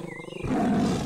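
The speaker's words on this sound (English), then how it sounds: "I recognize that sound. It must be a tiger." A Sumatran tiger in a cartoon jungle scene lets out a loud, sustained roar that starts abruptly after a brief quieter lead-in and holds steady to the end.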